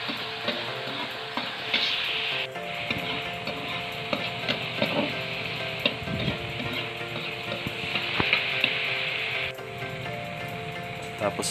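Filipino shrimp paste (bagoong alamang) sautéed in a pan with tomatoes sizzles steadily, with scraping and stirring clatter from a utensil mixed into the constant frying hiss.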